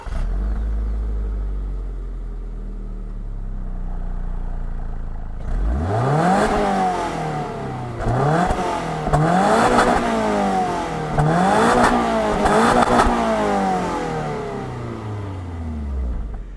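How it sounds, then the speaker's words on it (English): A 2022 Subaru BRZ sports car engine with factory exhaust cranks and catches after a quiet stretch, then revs up and falls back several times in a row, loud and close. "I'll fire up this engine so you can hear how it sounds."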